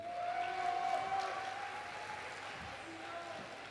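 Audience applause at the Africa Stop Ebola song contest in Guinea: a steady, fairly faint wash of clapping that holds for several seconds and slowly thins toward the end.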